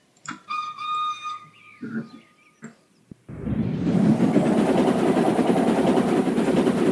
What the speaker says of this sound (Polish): A gwizdek brzmi tak.